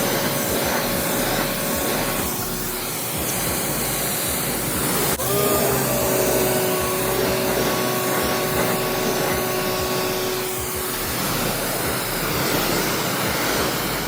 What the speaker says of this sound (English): I'm just going to go ahead and rinse the wheels off